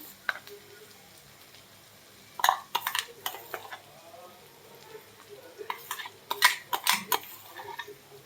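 A spoon stirs masala into roasted ginger-garlic paste in a sizzling pan, with bursts of scraping and clinking against the metal that come and go over a steady low fry.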